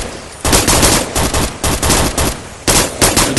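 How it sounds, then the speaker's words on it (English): Enemy machine gun fire in a military combat video game, several loud, close bursts of rapid automatic shots separated by short pauses. "A machine gunner? Oh god."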